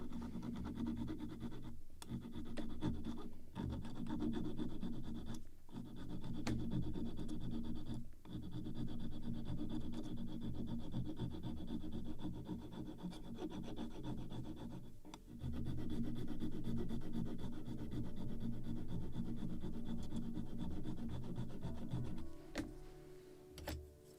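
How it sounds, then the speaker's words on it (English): Sandpaper rubs against small wooden catheads on a Model Shipways kit of the 1776 gunboat Philadelphia, making long, steady scratchy strokes broken by short pauses, close-up and moderately loud with no voices. "So a little more of sanding for all of them,"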